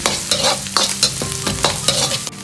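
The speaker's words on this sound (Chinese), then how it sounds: "接着下入姜蒜米，先煸炒出香味" Minced pork with ginger and garlic is stir-fried in rapeseed oil in a wok, sizzling loudly with rhythmic scraping strokes of a spatula close up.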